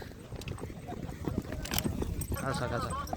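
Horses clip-clop along at a horse race in rural India, hoofbeats mixed with crowd noise and people talking throughout.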